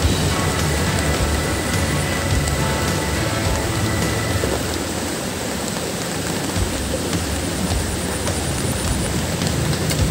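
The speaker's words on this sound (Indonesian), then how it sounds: "Waduh, hujan sahabat, semoga saja hujannya membawa berkah." Steady heavy rain pours down beside a river during a microfishing outing for wader fish, a dense continuous hiss with a low rumbling undertone throughout, close and loud with no voices.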